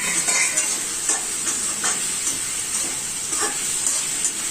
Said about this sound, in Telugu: ఫ్రై లాగా చేస్తా కొంచెం